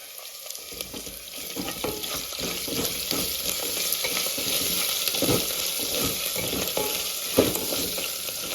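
Ginger garlic paste fries in a pan for a taro root curry, a continuous close sizzle that grows slightly louder, punctuated by intermittent stirring clicks and scrapes.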